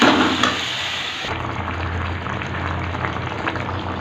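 Onion and mutton gravy cooking in a pan after water is added, a brief louder hiss at first, then a steady low bubbling simmer close by, with no talking.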